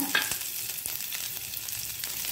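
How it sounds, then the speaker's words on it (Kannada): A small piece of onion fries in hot oil, giving a continuous crackling sizzle with a few sharp spatters and utensil taps over about two seconds. "ಎಣ್ಣೆ ಬಿಸಿ ಆಗುವಾಗ ಒಂದು ಸಣ್ಣ ತುಂಡು ಈರುಳ್ಳಿಯನ್ನು ಹೀಗೆ ಹಾಕ್ಕೊಳ್ತಿದ್ದೇನೆ"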